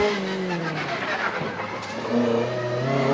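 Rally cars at TARGA Tasmania are driven hard through town streets, engines revving loudly and shifting pitch as they accelerate close by, with faint tyre noise and a brief voice in the mix.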